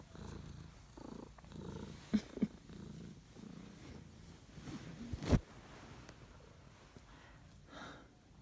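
A cat purrs quietly up close in a soft, rhythmic rumble, interrupted by a few brief clicks and a sharp handling noise.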